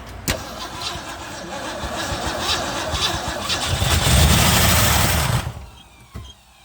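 A 1963 Ford Galaxie convertible engine cranking after sitting for about 30 years, a sharp click then rapid churning that builds into a louder catch near the end before dropping away, close up with no talk.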